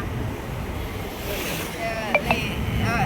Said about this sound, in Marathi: बाहेर सुटलेलीच वारा बरोबर